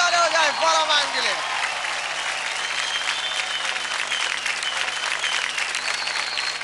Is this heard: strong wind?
no